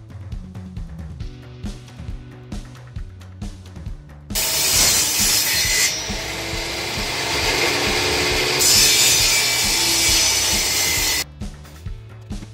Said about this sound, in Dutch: Je moet niet te lang doorzagen, half doorzagen en dan omdraaien.